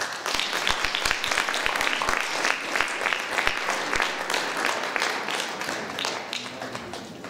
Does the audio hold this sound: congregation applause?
yes